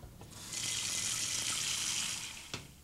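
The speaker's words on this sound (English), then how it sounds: "Then put some water in the pot" Tap water running into a cooking pot, a steady hissing stream that starts after a brief moment, holds for about two seconds and then stops with a small clunk, close and fairly quiet with no talking.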